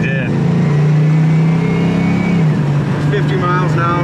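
A 1973 Plymouth Satellite with a 318 V8 pulls hard under acceleration, its deep engine drone rising steadily and loud from inside the car, with someone talking over the engine noise.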